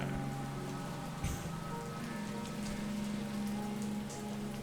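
Steady rain falls on surfaces in the video game How We Know We're Alive, a constant even patter with a soft tonal hum underneath and no voices.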